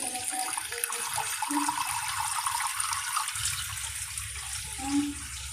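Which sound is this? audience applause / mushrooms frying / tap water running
tap water running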